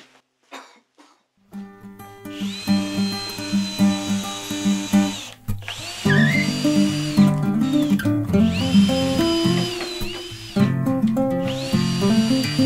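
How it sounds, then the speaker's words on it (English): A power drill bores holes into a wooden bow fishing platform for a boat, close and loud, its motor revving up and whining in repeated bursts with brief pauses between holes. "Drilling the holes into our platform."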